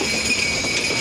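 A passing train gives a brief, steady rail rumble with a faint high metallic whine, moderately loud and lasting only a moment.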